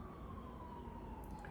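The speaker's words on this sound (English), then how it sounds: "you can hear the sirens, this is uptown Charlotte" An emergency vehicle siren wails steadily at a distance in uptown Charlotte, a faint continuous tone over a low rumble of city traffic.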